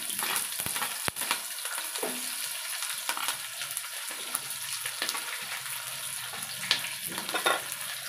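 Sliced onions and slit green chillies frying in oil, a steady hissing sizzle with scattered small pops and crackles, close and fairly even throughout, no voices.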